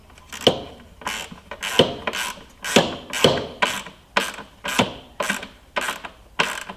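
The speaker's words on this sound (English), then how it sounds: "now we're going to take our ratchet and give them a good tighten here" A hand ratchet clicks in repeated strokes while tightening bolts on the mass air flow sensor of a 2008 Ford F-150, about a dozen crisp, close, evenly spaced ratcheting bursts with no talking.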